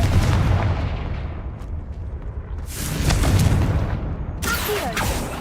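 A Confringo explosion spell goes off in a Harry Potter video game, a series of deep booming blasts with crackling bursts, loud and close, one sharp burst near the end.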